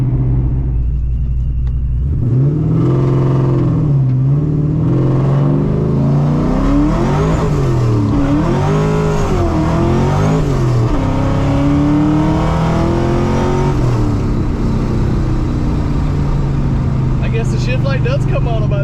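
A 1997 Ford Mustang GT with a 2-valve V8 revs hard, the loud rowdy exhaust climbing and falling through several throttle blips over a steady idle rumble, close up, with a person talking over it.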